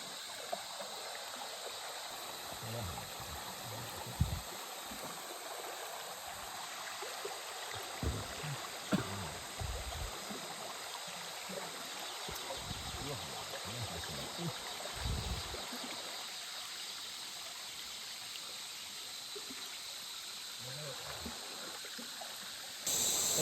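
A rocky river stream in the Borneo interior rushes and gurgles steadily close by, with scattered splashes and knocks breaking through the constant flow.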